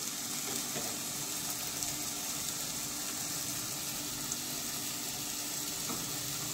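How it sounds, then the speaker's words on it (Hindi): Mixed vegetables with capsicum sauté in a pan for veg pulao, giving a steady, close sizzle and frying hiss throughout, with faint stirring scrapes and no talk. "अभी सब्जियों को मैं 5 मिनट तक के भूनूंगी"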